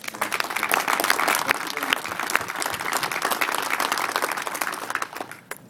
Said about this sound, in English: I'd like you to give yourselves and each of you an applause for attending today